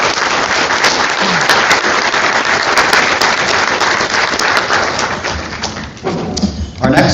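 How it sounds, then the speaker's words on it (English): At a chamber of commerce luncheon, a crowd gives loud, sustained applause, a dense close patter of many hands with thuds throughout, easing briefly near the end before picking up again. "Let's give them a round of applause."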